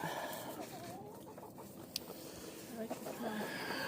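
Hens cluck in a snowy chicken run, soft repeated clucks and scratchy movement close by, with a person's voice faintly in the background.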